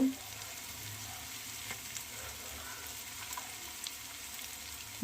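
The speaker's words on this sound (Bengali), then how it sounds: "ভালো করে কষিয়ে নেব।" Fish head masala sautéing in a pan gives a soft, steady sizzle with a few faint stirring scrapes, close but quiet and with no talking.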